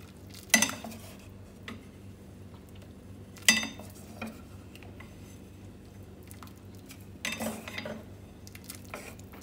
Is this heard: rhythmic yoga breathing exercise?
no